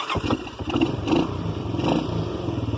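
An off-road four-wheeler engine idles and revs close by in a steady, choppy rumble with rattling mechanical clatter, heard alone.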